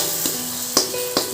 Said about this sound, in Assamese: বিলাহীখিনি একেবাৰে সিজি নোযোৱালৈকে ভাজি